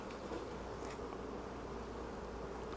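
Honey bees swarm at the top of an open beehive near the crown board, making a dense, continuous close buzzing hum with no pauses.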